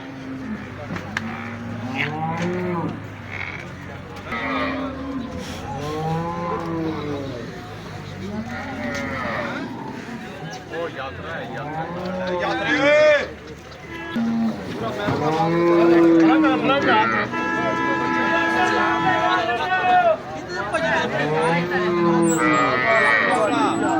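Buffalo lowing repeatedly at the Kharian livestock market in Punjab, with long, loud moos rising and falling throughout, mixed with other animals and the talk of people bargaining nearby.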